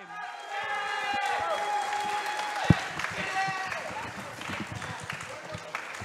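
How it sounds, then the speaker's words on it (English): A crowd at a high school exhibition match applauds both teams after the game, with a steady spread of clapping and scattered cheers and voices mixed through it, fairly close. "let's give it a good round of applause for both of our teams"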